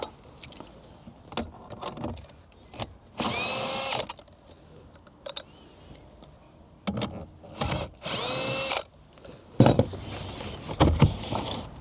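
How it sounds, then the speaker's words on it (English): Power tool on a Lexus RC removing two 10mm bolts during a stereo install, heard as several short whirring bursts of about a second each, separated by quiet handling clatter, close by. "And there's 2 10mm bolts. Let's remove those."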